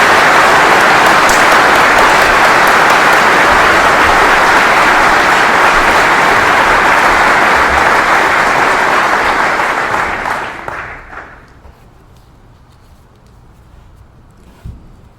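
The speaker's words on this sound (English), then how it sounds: "please join me in thanking General Horn, Kelly, and their family with another big round of applause" Sustained loud applause from a large crowd at a military retirement ceremony honoring a brigadier general, dense and steady for about ten seconds before fading out to a quiet room.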